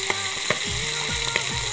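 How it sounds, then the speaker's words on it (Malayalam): Sardine roe frying in a pan, a steady crackling sizzle with sharp pops, plus a few scraping stirs against the pan, close and continuous with no talk. "ഇനി ഇത് നന്നായിട്ടൊന്ന് മറച്ചിടണം നല്ലോണം ഒന്ന് ഫ്രൈ ആവട്ടെ"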